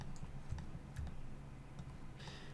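Light, quick clicks from a computer keyboard as someone types while modeling furniture in 3ds Max, a few soft taps scattered across a quiet, hissy room.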